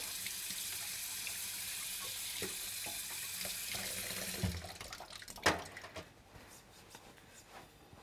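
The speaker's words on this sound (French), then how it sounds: "j'ai un petit filet d'eau" A small trickle of running tap water flows steadily and close for about four seconds, then stops, leaving a quieter background with a couple of faint knocks.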